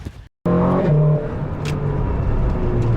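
Mazda CX-5 exhaust during a rev: a brief cutoff, then a sharp engine burst that settles into a steady, rumbling drone, close and fairly loud with no talking.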